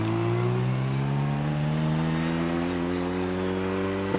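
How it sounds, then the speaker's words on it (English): A TVR Griffith climbs through the S-bends at the Prescott hillclimb in a handicap-class run, its engine a loud, steady drone with clear harmonics that dip in pitch briefly near the end, with no talk over it. "So into the S's goes the TVR Griffith."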